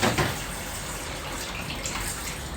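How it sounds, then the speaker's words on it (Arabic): Water from a tap runs steadily into a pot of basmati rice for about two and a half seconds, a close, continuous splashing gush with a slightly louder start and no talk over it. "هحط مية تاني كده خلاص."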